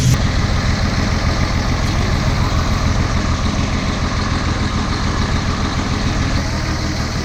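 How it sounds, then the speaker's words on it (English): An old, worn car engine idles at around 800 RPM, shaking on tired motor mounts, producing a loud, steady, close low rumble with an even pulsing throb and no talking. "Going to readjust the engine idle RPM back to 800 again."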